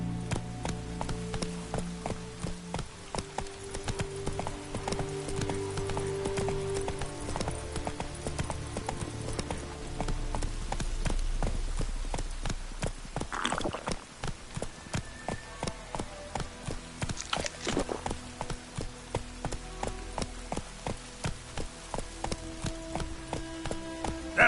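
The horse Roach gallops in a video game, hooves clip-clopping in a fast, steady rhythm that runs for the whole stretch, close and even, with no talk over it.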